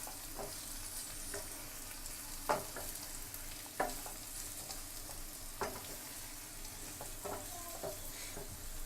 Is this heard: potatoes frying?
yes